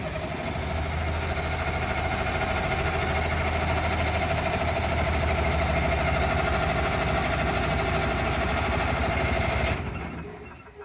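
A massive military diesel generator engine cranks and runs, a steady loud mid-pitched throbbing with a low rumble and mechanical knock, continuing evenly before cutting off abruptly near the end, no talking.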